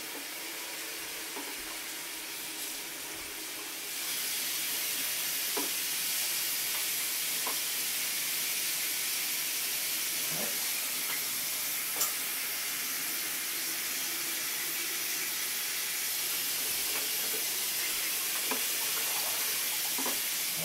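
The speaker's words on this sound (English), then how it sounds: "I'm gonna run some water." Tap water runs steadily in a darkroom while developing color film, a constant hiss and splash, close by, with a few faint clicks and knocks over it.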